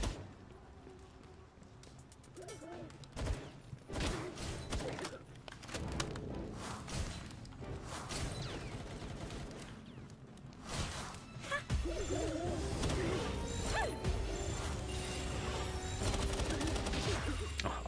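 Gunfire in the survival video game Palworld during a boss fight: repeated bursts of shots and heavy thuds in rapid clusters, growing denser and louder toward the end, with a voice talking over it at times.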